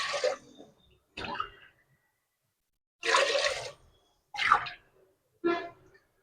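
Water for biryani rice is poured from a glass into a pot in five separate short splashy pours, with silent gaps between them.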